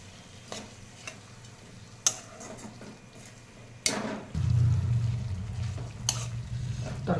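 Paneer curry with yogurt and a little sugar fries in oil in a pan, with sharp spatula clicks and scrapes at first, then a louder, steady close sizzle as stirring continues.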